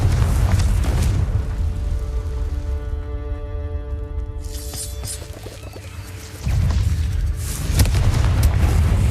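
Bombarda blast spell in the Hogwarts Legacy video game, a loud booming explosion with rumbling low roar and crashing debris, a ringing tonal hum in the middle, then a second heavy surge of blast noise.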